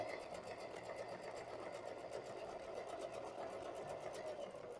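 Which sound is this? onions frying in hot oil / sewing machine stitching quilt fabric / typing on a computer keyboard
sewing machine stitching quilt fabric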